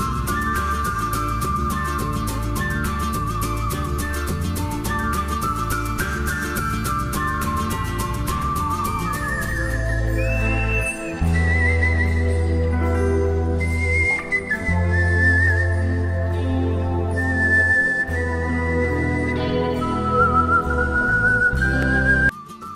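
A man whistles a guitar solo melody in place of the instrument, a clear, bright line that wanders up and down over a steady, pulsing low backing accompaniment throughout.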